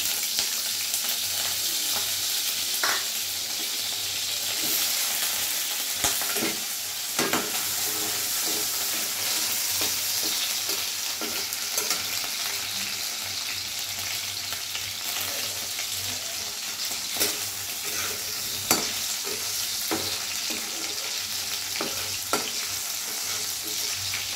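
Diced potatoes sizzle steadily in hot oil in a pan while being stirred, with a constant frying hiss, scattered clinks and scrapes of the spoon, and faint water-like splashes in the background.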